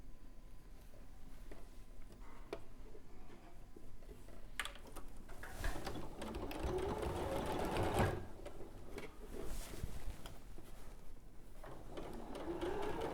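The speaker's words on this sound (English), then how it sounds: "I'm just going to sew the bottom of the sleeve and down the side together on either side." A sewing machine stitches the bottom and side seam of a garment sleeve, a close, steady mechanical whir and rapid needle clatter that speeds up and slows in bursts, with no talking heard.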